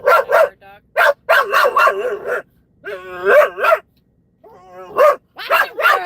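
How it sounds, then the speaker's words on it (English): A blue heeler barks loudly and repeatedly at another dog outside, bursts of sharp close barks and yips in uneven clusters with brief pauses. "Sorry for the loud barking, but every time she sees a dog, this is what happens."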